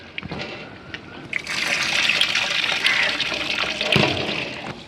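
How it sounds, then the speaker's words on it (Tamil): Squeezed juice from about twenty lemons is poured into a pot of mutton biryani cooking outdoors on farmland, a steady liquid pour and splash that swells after a moment and runs on with small bursts. "எலுமிச்சம்பழத்தை ஊற்றிட்டு லெமன் ஒரு இருபது பழங்க புளிஞ்சு வச்சுருக்கோம் ஊற்றிடலாங்க"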